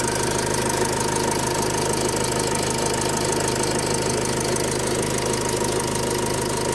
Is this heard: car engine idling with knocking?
yes